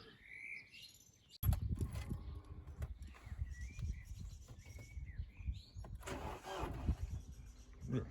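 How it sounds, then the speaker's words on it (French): A BMW 118d E87 with the M47 diesel engine is given a start attempt; after a quiet opening with birds chirping, a loud low mechanical churning bursts in and continues unevenly, with bird calls still heard in the background. "Allez, on tente le démarrage."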